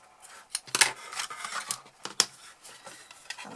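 Scissors snip through material for a DIY advent calendar box, several quiet, irregular cuts and rustles close by, with no talking.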